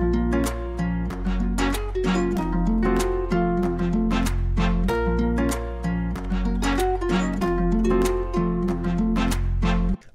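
A trap beat loop from a Cashmere kit thumps along with deep bass, crisp claps and bright plucked guitar-like melody, loud and continuous with no talking.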